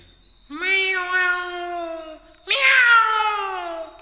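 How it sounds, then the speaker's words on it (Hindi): A cat meows twice, close and clear: a drawn-out first meow, a pause, then a louder, more insistent second one. "एक बिल्ली म्याऊं म्याऊं आवाज करते कहीं से एक रोटी लाती है"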